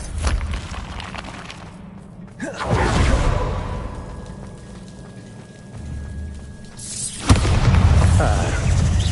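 Bombarda spell explosions in the Hogwarts Legacy video game, heavy booming blasts with rumbling debris and crackle amid other combat spell effects, loud and close.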